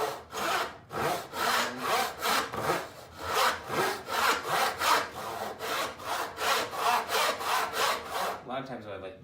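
A hand saw rips through a board clamped in a vise, steady back-and-forth strokes of wood sawing repeating evenly at close range with no voices.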